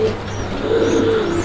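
Pigeons coo at a pigeon farm in Khulna, a low, continuous warbling coo from several birds held close and steady, with no talking.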